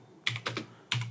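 Fingers type a command on a computer keyboard, giving three quick, close key clacks in a short burst, clear and alone.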